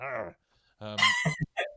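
A voice imitates a dog barking, giving a few short, loud bark-like shouts after a brief pause, with talking just before.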